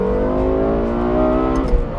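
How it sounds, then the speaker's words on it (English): A 2012 Lexus LFA engine revs steadily and loudly, its layered harmonic tones holding a smooth, rising pitch for about two seconds. "it's not just a ton of engine noise, it's melodious"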